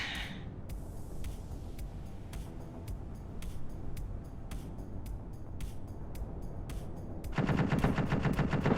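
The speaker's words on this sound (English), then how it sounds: "What's shooting? That was a trooper on the ground." Video game gunfire from a trooper: rapid sharp shots crack in a steady automatic rhythm over a low background rumble, ending in a louder, denser burst of fire.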